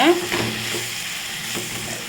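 Aachi masala powder and chilli powder sauté in oil in a pan for an appalam poo kuzhambu, a loud, close sizzle with scraping stirs and no talk.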